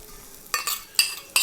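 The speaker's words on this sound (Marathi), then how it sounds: "चला, आपण ही फोडणी आता मस्त भाजीवर टाकून घेऊयात." Hot tempering is poured onto Mumbai-style pav bhaji in a home kitchen, giving three short, sharp sizzling bursts close to the microphone against a quiet background.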